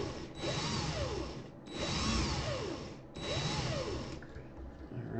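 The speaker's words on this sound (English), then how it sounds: "I'm going to put my drill in forward or clockwise." Cordless drill driven in forward, clockwise rotation, whirring steadily in three bursts of roughly a second and a half each with brief pauses between, close and fairly loud.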